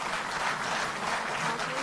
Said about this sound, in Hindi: जोरदार ताली बजती रहे